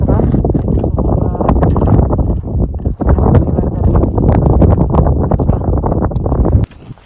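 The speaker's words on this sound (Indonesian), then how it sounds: "Hari ini cukup berangin, tapi langitnya cerah." Strong wind on Spantik mountain in Pakistan buffets the microphone with a loud, continuous low rumble and gusty roar that cuts out abruptly near the end.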